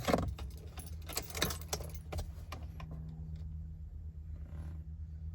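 Car keys jangle and clink in the ignition of a 2015 Toyota Camry, bright metallic rattles strongest early and thinning out, over a faint low engine rumble, close and fairly quiet.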